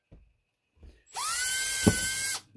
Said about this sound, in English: drill whatever size holes in there that you need.